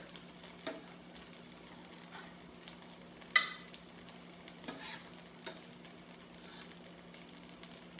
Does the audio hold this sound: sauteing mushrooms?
yes